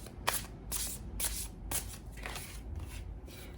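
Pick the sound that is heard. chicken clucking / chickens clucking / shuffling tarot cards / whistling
shuffling tarot cards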